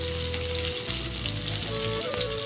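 Onion frying in hot oil with a bay leaf and whole cumin in a home kitchen, a steady close sizzle with occasional stirring and low hum underneath.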